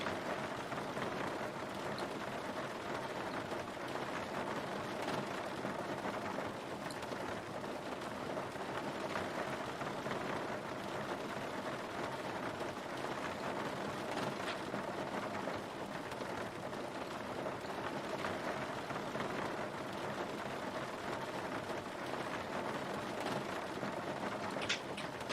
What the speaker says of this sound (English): This place is raining, Nico.